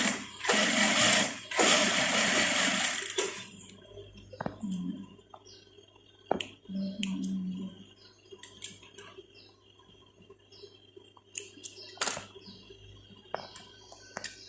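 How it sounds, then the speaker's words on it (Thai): Sewing machine stitching along the edge of a zipper on a pair of shorts, a loud steady run of stitching at first, then short intermittent bursts and clicks as the fabric is guided. "จะเย็บริมมาเรื่อยๆนะ"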